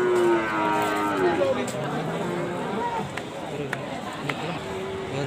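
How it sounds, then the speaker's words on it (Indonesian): Cattle mooing amid the busy hum of a crowded livestock market in Kragan, Central Java, Indonesia, with people chattering and calling throughout. "ini masih di pasar sapi Pragan"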